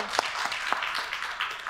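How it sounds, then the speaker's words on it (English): Audience applause at a startup pitching competition, a steady wash of clapping from a crowd with a couple of louder individual claps, heard at some distance and fairly soft. "Please, one more round of applause."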